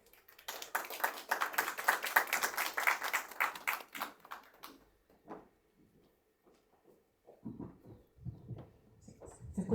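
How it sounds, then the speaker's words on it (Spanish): A lecture hall audience claps in a dense burst of applause for about four seconds that thins to scattered claps, then a speaker begins talking quietly near the end. "démosle un fuerte aplauso"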